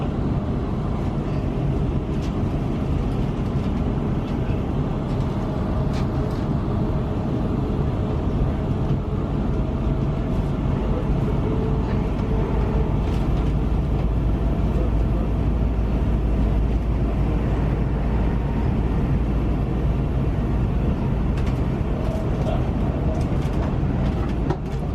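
Double-header train idling at a railway station, a steady low diesel rumble with broad rail noise running continuously and fairly loud throughout, without speech.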